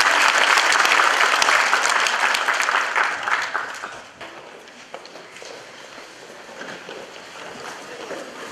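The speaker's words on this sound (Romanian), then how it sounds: "Ia să facă o demonstrație cum știu să aplaude" A spring show audience breaks into loud, dense applause that swells and then thins out into scattered, fainter claps and rustling after a few seconds.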